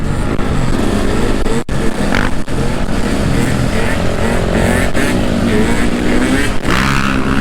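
Enduro motorcycles revving hard while riders pull wheelies on a stretch of road, a loud close engine roar with fluctuating throttle under wind noise and voices.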